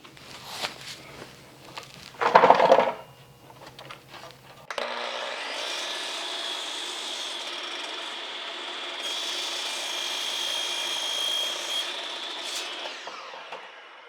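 Hand saw cutting a piece of quarter-sawn wood for a small tone bar, clamped against a backer board, a steady rasping stroke-by-stroke sound after a brief louder scrape, continuing close and even for about ten seconds.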